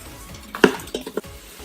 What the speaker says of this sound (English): I'm going to give it a mix, saute it for 2 to 3 minutes